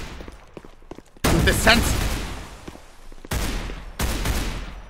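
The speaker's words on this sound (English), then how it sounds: "That's why I'm opening fire." Gunfire in a Roblox game modeled on Counter-Strike 2: a single loud shot, then two more sharp bursts, each with a decaying echo, heard close alongside a player's brief talk.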